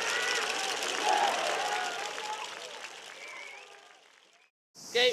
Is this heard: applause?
yes